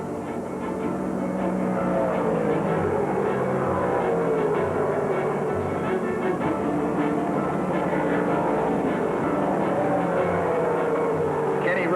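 1968 NASCAR modified race cars roar around Martinsville Speedway in a steady, loud engine drone with shifting pitch, faintly layered like commentary beneath the racing noise.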